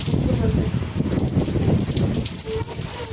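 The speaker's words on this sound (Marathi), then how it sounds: "बघितलं ना कसं अचानक पाऊस पडतोय ते" Sudden heavy rain pouring in Mumbai's Anushakti Nagar in May, a dense close roar of drops on surfaces with gusting wind, and a voice speaking briefly beneath it.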